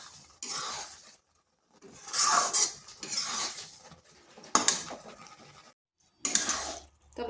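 Raw mango pickle is stirred in a pan, bursts of metal spoon scraping and clattering against the pan, near and loud, separated by short pauses of silence.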